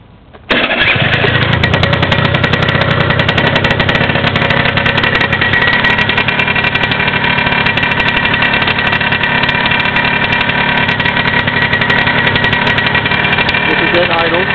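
A small 100 cc motor fitted with a promo pipe starts abruptly after a brief quiet moment, then runs at a loud, steady buzzing idle close by for the rest of the clip.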